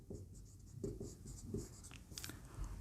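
A marker or chalk writing a word on a board during an English pronunciation lesson, giving short faint scratchy strokes in quick bursts, with no talk over it.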